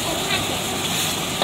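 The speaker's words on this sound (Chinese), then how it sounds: "哎呀，炒剁辣椒了啊！" Chopped chili and five-spice herbs sizzle and crackle in a wok for a brief, continuous burst of frying, close and fairly loud.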